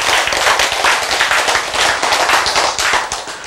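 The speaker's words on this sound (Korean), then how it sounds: "박수!" Dense, steady applause from a congregation during a church sermon, many hands clapping fast and loud for the whole stretch, with no voice over it.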